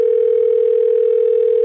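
A steady, loud, unbroken telephone dial tone from a black phone handset, one continuous hum held for under two seconds with nothing else heard.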